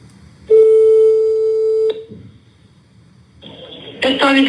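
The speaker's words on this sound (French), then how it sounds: "j'ai reçu un appel, ça a coupé mon enregistrement" A phone call cuts into a Snapchat recording: a steady electronic tone holds for over a second, goes quiet, then a brighter ringing chime rises loudly at the end.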